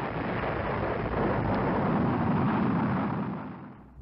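Rocket blast-off effect for the radio drama X Minus One, a steady loud roaring rumble sustained for several seconds before fading at the end.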